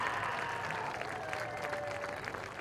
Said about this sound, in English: Let's have one more big round of applause for our 2025 Crete Cardinals football